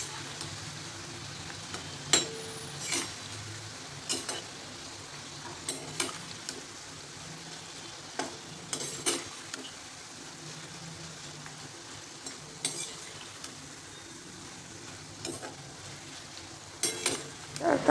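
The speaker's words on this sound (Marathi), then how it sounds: "लो फ्लेमवरती सारखं हलवत तळून घ्यायचं." Wheat-flour cheese shankarpali deep-frying in oil on a low flame, a steady close sizzle broken by repeated clinks and scrapes of a stirring utensil, with no voices.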